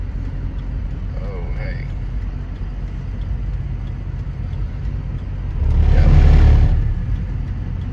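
A car rushes past close by, swelling over a steady road rumble and then fading away, while someone briefly speaks.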